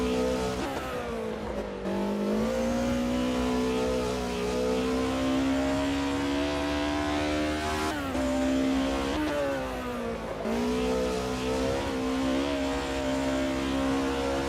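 Racing car engine driving on a dirt stage in a sim racing game, loud and continuous with steady revs rising and falling through gear shifts and brief dips, no talking.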